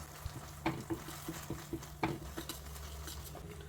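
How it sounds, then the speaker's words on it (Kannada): A spoon stirring ginger powder into hot syrup in a pan on the stove, soft irregular scrapes and taps with a faint bubbling sizzle, quiet and close. "ಇದನ್ನು ಕೂಡ ಅಷ್ಟೇ ಚೆನ್ನಾಗಿ ಮಿಕ್ಸ್ ಮಾಡ್ಕೊಳ್ಳಿ."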